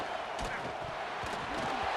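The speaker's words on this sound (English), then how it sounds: "Man, this crowd really affecting the football game." Crowd noise from a video game college football match at a Buckeye stadium on third down, a steady roar of cheering under commentary voices.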